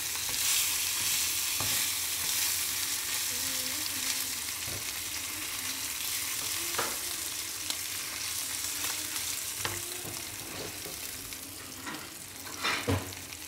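An Australian wagyu steak sizzles steadily in a hot pan after being flipped, a loud constant frying hiss with a few scattered taps and clacks of utensils over the pan.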